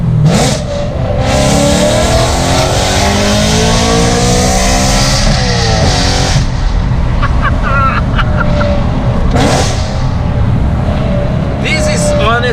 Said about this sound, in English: This is honestly the most insane sounding BMW M3 I've ever heard in my life.